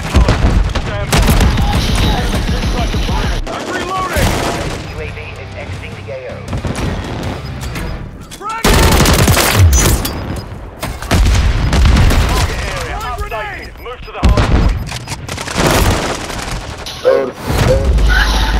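Grenade blasts and rapid gunfire in a Call of Duty: Modern Warfare III multiplayer Hardpoint match, loud booming explosions and bursts of automatic fire recurring throughout, with in-game voice callouts between the volleys.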